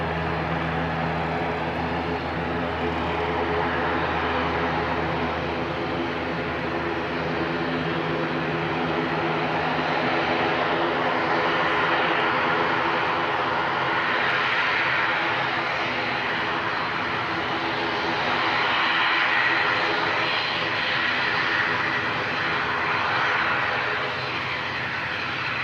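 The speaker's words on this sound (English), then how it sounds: "An ATR coming out. Heading off up to Wellington," An ATR turboprop leaving Christchurch Airport for Wellington hums with a steady droning engine tone and layered propeller harmonics, rising and falling gently in loudness over a long, continuous stretch with no talking.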